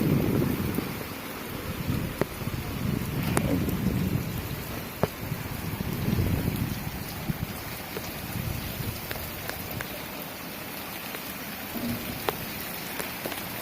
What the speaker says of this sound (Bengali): দেখেন কি পরিমাণে বৃষ্টি, বৃষ্টি শেষ হয় না।